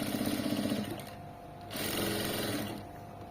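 A sewing machine stitches fabric piping up close with a quick rhythmic burst of needle strokes, a brief pause, then another softer run of stitching.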